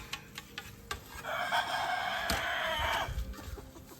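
Chickens cluck and squawk in a loud, agitated burst as they scatter from a net in a fenced yard, with scattered footsteps and rustling before and after the outcry.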